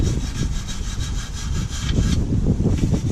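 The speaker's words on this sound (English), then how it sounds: "we've got to cut these mounts off, because these stop you from sitting very low" A cutting tool slices off tack-welded rear suspension mounts on a car being set up for air bags, giving a loud, continuous harsh rasp with a steady, rapid stroking rhythm close by.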